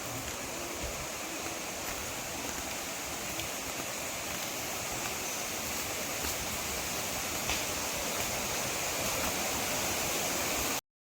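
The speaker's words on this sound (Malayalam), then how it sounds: "അതിൻ്റെ തൊട്ട് താഴെയായിട്ട് ആ വെള്ളം ഒഴുകുന്ന ഒരു ചെറിയൊരു പുഴയും കാര്യങ്ങളൊക്കെ ഉണ്ട് കേട്ടോ." A small river flowing just below a rural property in Mankulam, Kerala, a steady loud broadband rush of water running without a break, with no voices.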